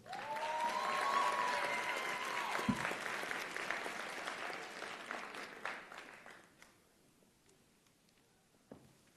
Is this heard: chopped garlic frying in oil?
no